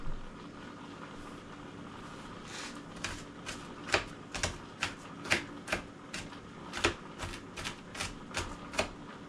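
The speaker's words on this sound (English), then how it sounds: "I dice it pretty small and I put it in my peas." A knife dices an onion on a cutting board in a fast run of crisp, even chopping taps that start sparse and then speed up, fairly quiet with no talking.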